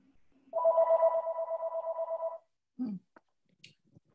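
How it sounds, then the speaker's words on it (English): A telephone rings once with a sustained electronic tone lasting about two seconds, followed by a few faint clicks and soft knocks in a quiet room. "Ah, the phone. We're saved by the bell."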